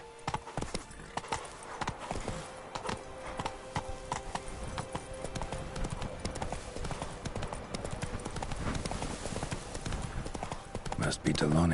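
Horse hooves clip-clop steadily in the video game Witcher 3, a continuous rhythmic trotting under game ambience, with a voice speaking briefly over it.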